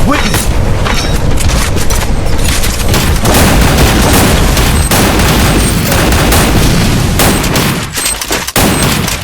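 Bomb blasts and gunfire in the Free Fire battle royale game pile up into a loud, dense barrage of booms and rattling shots that barely lets up, fading slightly near the end.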